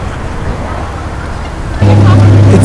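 Lamborghini Aventador SV with an aftermarket exhaust, a low rumble that jumps abruptly to a loud steady droning idle partway through, heard close by with background noise around it.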